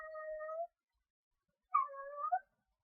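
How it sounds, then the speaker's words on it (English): A pet cat meows twice, clear and close, in a quiet room: one drawn-out call, a pause of about a second, then a second, more inflected meow. "that's my friend's cat"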